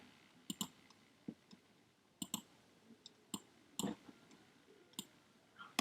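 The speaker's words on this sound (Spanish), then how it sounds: "dar unos cuantos clics en el área a seleccionar" Sharp computer mouse clicks in a quiet room while selecting an area of an image, coming as single and double taps at irregular intervals, close and crisp with nothing else around them.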